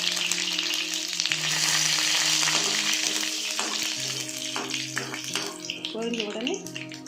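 Cumin, fenugreek, mustard seeds and curry leaves splutter in hot oil, a close sizzling and crackling with scattered pops while a voice talks over it.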